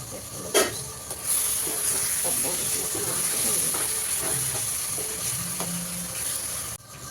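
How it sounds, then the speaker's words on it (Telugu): A lid is lifted and tomato egg masala curry is stirred in a pan, with a steady hiss and sizzle broken by scraping and clinking. A voice speaks briefly underneath. "ఒకసారి మూత తీసి కలుపుతాం."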